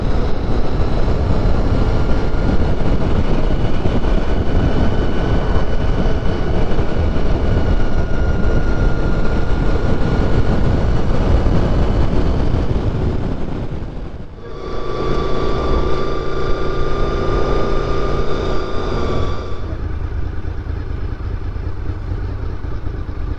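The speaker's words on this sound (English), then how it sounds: "So just listen to that growl out of that exhaust and that engine." A loud Honda VFR RC46 motorcycle engine drones steadily with a gritty exhaust growl, dipping briefly midway before returning with a higher, tonal pitch.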